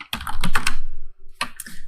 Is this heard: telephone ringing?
no